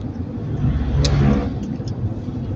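A motorcycle passes on a mountain road in Camarines Norte, Bicol, its engine rising and fading close by over steady road and cabin rumble.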